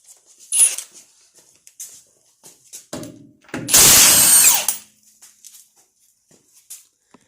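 A power tool spins off a 19 mm skid plate bolt on a Jeep TJ in one loud burst of about a second. Faint clanks and small noises come before and after.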